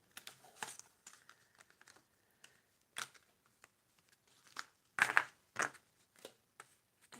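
Tarot cards are pulled one by one off a board, making scattered dry paper clicks, flicks and rustles with quiet gaps between them, close and fairly soft, with no speech.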